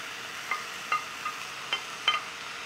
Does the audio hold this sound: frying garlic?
yes